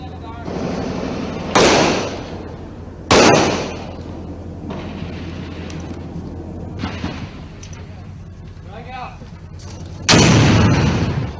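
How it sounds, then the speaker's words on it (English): Muffled recorded explosions and gunshots, meant to resemble sounds heard underground in a mine, with several sharp loud bursts spread across the span and low rumble between them, plus faint talk in the background. "these sounds I'm getting ready to play are muffled by being underground, but they sound like what the people say they're hearing. Explosions and then some gunshots."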